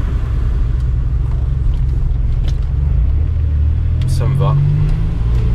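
A barn-find Maserati Biturbo driving on a road, its engine a steady low rumble throughout with road noise, rising slightly near the end while someone speaks briefly over it.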